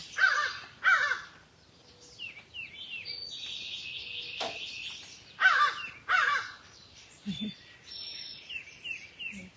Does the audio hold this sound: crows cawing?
yes